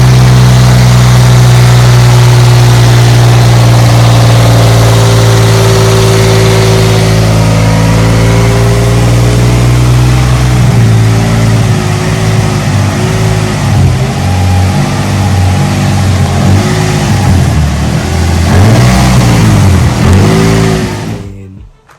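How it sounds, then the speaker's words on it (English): A rebuilt Nissan 350Z engine runs loud and close, idling steadily at first and then revving up and down repeatedly in rising and falling sweeps before cutting off abruptly at the end. "This is Zach taking it for a rip real quick, just to make sure everything is good to go."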